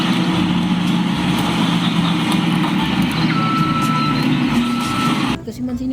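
A mining truck's steady engine rumble fills the scene while a repeating reversing beep sounds over it, then both cut off abruptly near the end.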